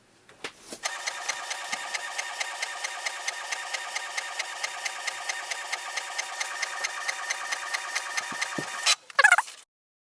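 A Canon PIXMA MG2522 inkjet printer prints a page in a steady run of rapid mechanical rattling ticks lasting several seconds, close and continuous, then ending with a brief whirring flourish as the sheet ejects.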